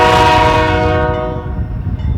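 A BNSF GE B40-8 locomotive sounds its multi-tone horn loud and close, a single sustained blast over rumbling engine noise that fades and cuts out toward the end.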